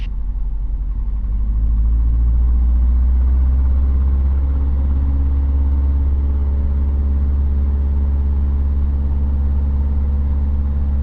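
A 1945 Luscombe 8A light airplane's engine drones steadily after a wheel landing, a loud, even, low rumble heard from inside that holds constant throughout.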